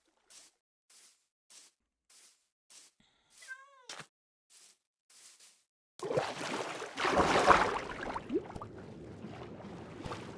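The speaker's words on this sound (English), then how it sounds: "A cat who's not actually afraid of the water." A Minecraft cat meows in a short rising-and-falling call amid faint rhythmic paddling of a boat on a lake, then heavier splashing water noise swells up loudly and continues.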